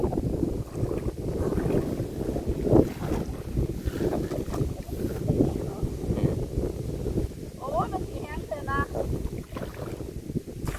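Gusty wind buffets the microphone outdoors in a flooded rice field during lift-net fishing as the water recedes, a steady rough rumble throughout with a few faint high chirps near the end.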